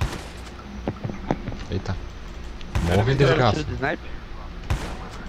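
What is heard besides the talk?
gunfire in the video game COD Mobile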